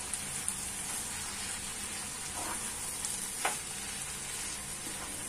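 Poha frying in a pan with spices while being mixed, a dense continuous hiss of sizzling with a couple of faint scraping stirs, close and even throughout.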